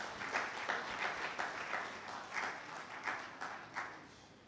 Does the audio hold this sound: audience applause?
yes